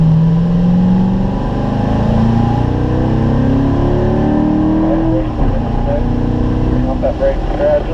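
A Corvette's engine pulls hard at wide-open throttle on a race track, its loud rising drone sweeping upward through gears with a brief shift dip, while an instructor talks over it.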